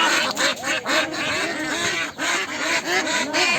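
A flock of village ducks gathered for sale quack loudly and continuously, a dense, close, overlapping chorus of nasal calls.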